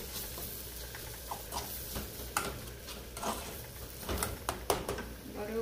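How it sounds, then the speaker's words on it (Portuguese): Mashed potato with seasoning being stirred in a pot, giving soft, irregular scraping and tapping strokes that run steadily throughout at moderate closeness. "Mexendo, mexendo, mexendo pra pegar o sabor do tempero."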